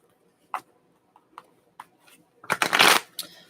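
Tarot cards handled and shuffled up close, a few soft taps and flicks followed by a quick riffling burst near the end, with no one speaking.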